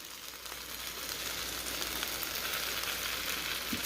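Cheese is stirred into hot pasta and meat in a pan with the heat off, producing a steady close sizzle and soft scraping that build slightly toward the end, with no talking.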